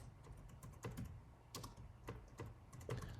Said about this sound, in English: All right, so we're going to type